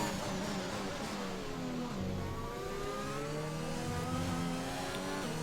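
F1 race car engines in the video game F1 2021 at the British GP, a steady high-pitched engine whine with rising and falling revs and another car close by, loud and continuous with no talk.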